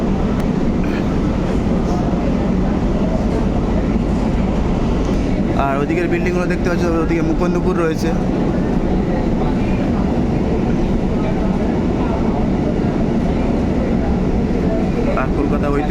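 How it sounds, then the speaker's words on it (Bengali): A local train bound for Sealdah rumbles along in a continuous loud roar with faint rhythmic clatter, while someone talks over it throughout. "ওদিক থেকে দেখতে পাচ্ছ লোকাল লোকাল যে ট্রেনটা যাচ্ছে যেটা শিয়ালদা চলে যাচ্ছে"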